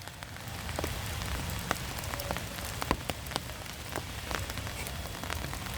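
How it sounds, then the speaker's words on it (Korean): Steady rain falls in gusty wind on a wooded hillside by a feeding spot, a dense close hiss with scattered sharp drops ticking on surfaces throughout, and no one speaking. "비 맞고. 비 맞는다."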